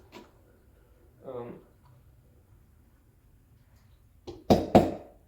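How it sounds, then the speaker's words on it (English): Espresso puck from a Breville Barista Express BES870 portafilter knocked into a knock box, heard as two or three sharp close thuds near the end after quiet room tone and a brief murmur of speech. "after you knock it in your knocker box,"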